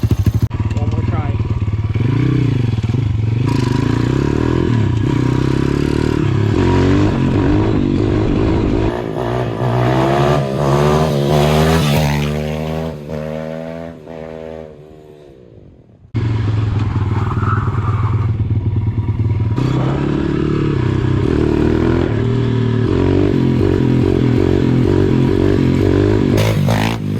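A dirt bike ridden downtown revs hard through a stand-up wheelie, its engine climbing and falling in pitch, cutting out briefly and then roaring back close and loud, with clattering mixed in.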